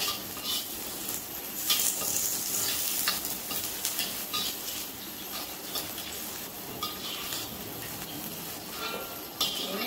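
Prawns sizzle steadily in hot oil in a home wok for Penang char koay teow, a close, continuous bubbling crackle with occasional sharper spits and pops.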